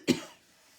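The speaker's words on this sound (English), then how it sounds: "I don't want to start that coughing again. But I think I'm going to." A single short, sharp cough from a nearby person, followed by a quiet fade with no talking.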